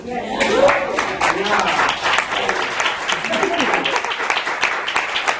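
An audience at an international class session applauds as class members stand, producing a steady wash of clapping throughout, with talking blended in underneath.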